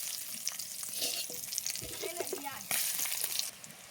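Onion frying in fish oil with bay leaf and cumin seeds in a home kitchen pan for a spicy river fish curry, a steady sizzle with a louder burst of hiss partway through, alone without talk.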